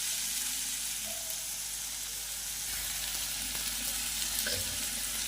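Tomatoes and masala fry in a pan with an even, close sizzle and crackle. Faint scraping and a few soft knocks sit on top, and nobody talks.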